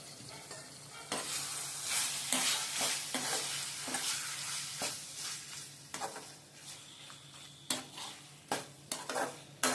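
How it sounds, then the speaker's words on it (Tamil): Prawns sizzle as they are sautéed in thokku masala, with steady frying under a series of spatula scrapes and clinks against the pan that grow sharper and more frequent toward the end, close, with no talking. "இறா சேர்த்து சும்மா ஒரு ரெண்டு வதக்கு வதக்கிட்டு"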